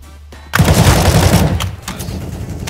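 Negev machine gun firing in Counter-Strike, a sudden loud, rapid burst of gunfire lasting about a second, then a lower, fading tail and rattle.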